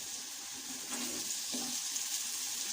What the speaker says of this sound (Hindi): प्याज लाइट ब्राउन हो गया, अब हम इसमें लहसुन का पेस्ट ऐड कर देते हैं